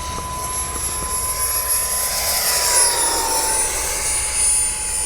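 A jet-powered RC Aeroscout model plane passes in flight, its steady turbine whine and broad rushing roar holding fairly loud and continuous, swelling slightly as it dives, with no voices.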